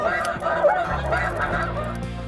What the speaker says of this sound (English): An MP3 recording of a flock of snow geese played over a pair of battery-powered speakers.